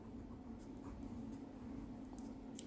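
Pen writing out an algebraic equation for a maths problem, a steady soft scratching across the whole stretch with faint low room hum beneath and no talking.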